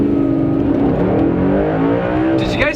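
A car engine revving as it accelerates in gear, a sustained harmonic drone rising steadily in pitch, loud and close, with a voice talking over it.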